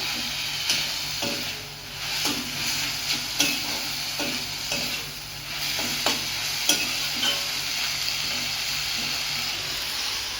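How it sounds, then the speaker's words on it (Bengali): Jute leaves frying in a pan, giving a constant hissing sizzle under a string of scraping stirs that come every second or so, close up and with no talking. "এটাকে একদম ভাজা ভাজা করবো।"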